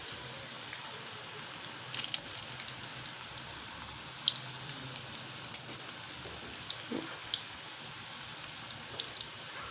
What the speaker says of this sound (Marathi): तळत आल्यानंतर जपून नाही तर मक्याचे जे दाणे ते फुटू शकतात तेलामध्ये